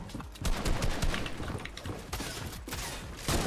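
Pump shotgun blasts in Fortnite, several sharp shots with mechanical pump clacks between them, close and loud in a quick irregular sequence.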